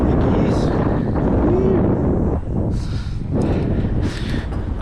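Gusty wind buffets an outdoor microphone beside an off-road Esker Japhy bike, a steady low roar with stronger surges, while a person talks over it.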